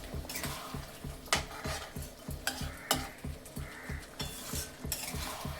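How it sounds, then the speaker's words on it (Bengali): Fried potatoes and pointed gourd stir-fried in a bubbling spice paste for a tengra fish dish, with a steady sizzle under repeated scraping and clinking of a metal spatula against the pan, some strokes sharp and loud. "এর মধ্যে আমি এখন দিয়ে দেবো আগে থেকে ভেজে রাখা আলু আর পটল। এটাকে ভালো করে কষে নেব।"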